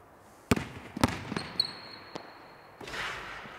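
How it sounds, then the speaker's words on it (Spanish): A handball bounces in a sports hall during a dribble drill: two sharp, close bounces, a third weaker one, then quieter thuds and a squeak, with reverberant room noise. "vamos a botar dos botes, parada dos tiempos y tiro"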